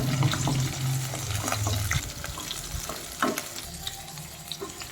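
Small shallots and garlic sautéing in sesame oil, a steady frying hiss with scattered spatula stirs and scrapes, plus a brief low hum at the start.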